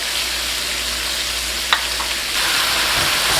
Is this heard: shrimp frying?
yes